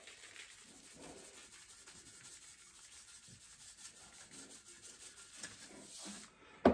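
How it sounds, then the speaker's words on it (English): Salt rubbed over a copper pot after vinegar gives a steady, close, gritty scrubbing with rhythmic strokes throughout, quiet and alone, ending in a brief knock. "Now we're applying salt. Salt in this case is the abrasive"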